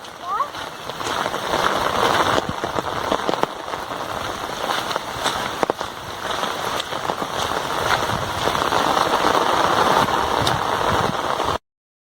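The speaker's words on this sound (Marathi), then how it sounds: "पाऊस जोराचा लागतोय" Heavy monsoon rain pours steadily in a rural setting, a dense continuous hiss close by with an engine rumbling underneath throughout, ending abruptly.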